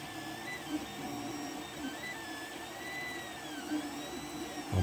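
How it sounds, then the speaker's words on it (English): A 3D printer works on a small Santa Christmas decoration at low infill, its stepper motors whining in rising and falling tones over a steady mechanical hum, close but quiet, with no voices. "I'm printing it on a very low fill rate as well."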